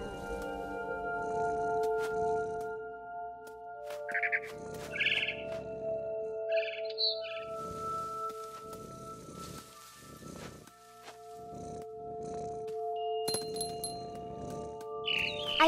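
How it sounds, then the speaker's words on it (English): A barn swallow chirps near a window in What Remains of Edith Finch, with scattered short tweets over soft rustling and a low sustained musical drone. "Then I heard chirping outside my window. It was a barn swallow going back to her nest."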